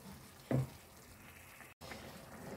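A spoon stirs a simmering sauce of minced meat and vegetables in a pan: one short scraping stir over a steady, soft sizzle.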